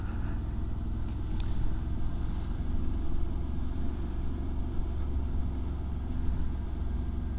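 Morbidelli T1002V motorcycle riding steadily in second gear at around 20 mph, a constant low engine drone with wind noise, smooth and even throughout with no gear changes.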